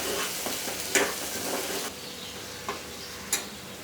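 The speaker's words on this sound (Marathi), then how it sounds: "हे जे हिरवं वाटण आपण यात घातलंय ना, ते तेलात चांगलं 5 मिनिटं शिजवून द्यायचंय आपण" Green masala paste frying in oil for shuka chicken, a close, steady sizzle with a few sharp stirring scrapes and clicks of a spoon against the pan.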